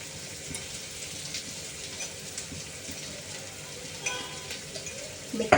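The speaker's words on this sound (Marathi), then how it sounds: "ते चांगलं आपल्याला तेलामध्ये परतवायचं आहे" Vegetables with green chilies sauté in oil, making a faint, steady sizzle with soft stirring scrapes throughout and a few louder clatters near the end, with no talking.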